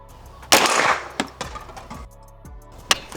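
A sharp, loud shot from a Magtech N2 Extreme spring-piston air rifle cracks out, followed by a few fainter clicks and knocks, with a second short crack near the end.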